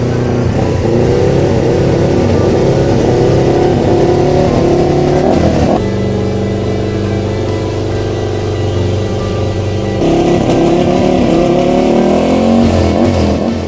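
Ducati race motorcycle at an Italian racing circuit, its engine revving loud and close in sustained high-pitched bursts, dipping briefly in pitch before climbing again.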